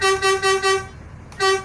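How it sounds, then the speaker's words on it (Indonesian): A car horn honks in four quick pulses, pauses, then gives a fifth blast, loud and close with a harmonic tone and no voices. "Nah, berarti seperti suara klakson"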